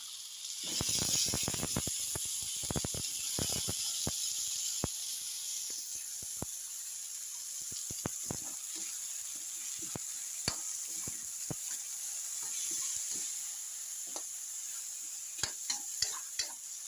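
Chayote being sautéed in a pan with onion, garlic and ginger, a steady close sizzle with scattered clicks and scrapes of stirring throughout, no talking.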